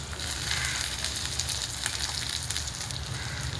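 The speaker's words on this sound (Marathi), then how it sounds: "आता भाजलेले गवार टाकून घेऊया" Roasted cluster beans hit a hot pan already holding garlic, sesame seeds and tomato, setting off a steady, close, crackling sizzle that continues evenly throughout with no talking.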